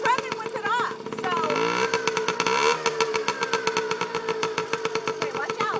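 A small motorcycle engine running after the fuel ran out, a steady pulsing idle with a rev partway through, close and loud, with people talking over it.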